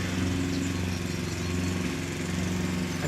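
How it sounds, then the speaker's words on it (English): A small riding lawn mower drones nearby, its engine running at a steady, unchanging pitch with no talk. "finishing up with the small mower"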